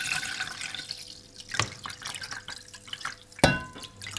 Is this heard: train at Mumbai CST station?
no